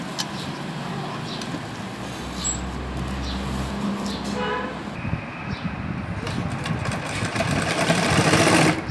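A sewing machine stitches three layers of lehenga fabric, net, designer cloth and lining, running in a steady, continuous whir at close range for the whole stretch.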